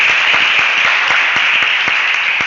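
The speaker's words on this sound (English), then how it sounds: "Can we please just give her a hand clap of recognition" An audience at a community commission event gives sustained applause in recognition, a loud steady wash of many hands clapping with individual sharp claps standing out, heard close and without talk.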